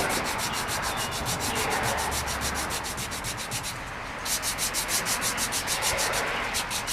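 Steady rhythmic rubbing as an EffanBee Patsy doll's belly is sanded by hand, close and fairly quiet strokes in a regular back-and-forth pattern, pausing briefly midway before resuming.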